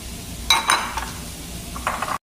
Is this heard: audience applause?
no